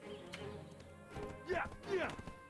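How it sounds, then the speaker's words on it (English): Horse in the Black Desert Online video game running, with rhythmic hoofbeat clip-clops and a couple of louder snorting or whinny-like bursts over a low game background, accompanied by a speaking voice. "Why is my horse running?"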